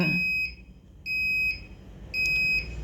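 Gas leak detector alarm sounding a warning: three loud, piercing electronic beeps about half a second long, spaced roughly a second apart, close and alone.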